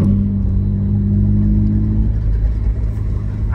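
A BMW G80 M3, rear-wheel drive, makes a drag strip pass, its engine a loud, heavy low rumble that holds a steady droning pitch before shifting and carrying on, with no talk.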